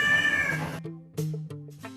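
A mother cat meows to call her kittens, a drawn-out cry followed by several shorter, tonal meows with a slight trilling edge, close and clear.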